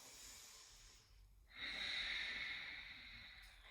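During a yoga forward fold, a faint quiet breath gives way to a long, strong breathy exhale that swells and then slowly tapers, heard close and alone.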